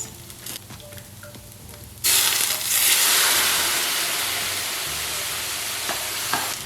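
Rice cooking in a pan over medium heat as a ladle of stock is poured in and stirred, a quiet scraping that turns into a loud, steady sizzle and hiss after about two seconds and then gradually settles.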